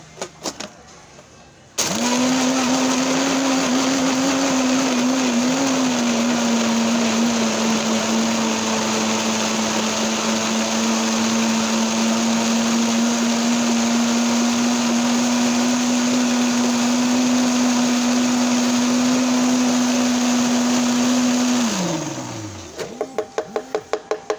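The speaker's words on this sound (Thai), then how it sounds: "ปรับเครื่องปั่นไปที่เบอร์แรงสุดนะคะ จะได้ปั่นไวแล้วก็ละเอียดไวนะคะ" A kitchen blender runs at its highest speed crushing ice for a banana milk drink, a loud, steady whirring drone that starts abruptly, holds for about twenty seconds, then winds down in pitch as it stops.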